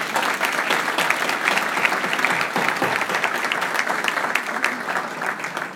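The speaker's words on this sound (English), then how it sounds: "please join me in giving them a round of applause for their leadership" A banquet audience at a Thanksgiving dinner and awards ceremony applauds continuously, a loud, dense, steady clapping that keeps up throughout without fading.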